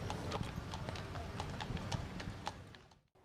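A New York carriage horse's hooves clip-clop steadily on the street outdoors, a brisk even rhythm of sharp hoof strikes with faint traffic and crowd murmur behind.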